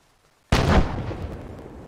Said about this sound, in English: Mortar, be advised your rogue round impacted.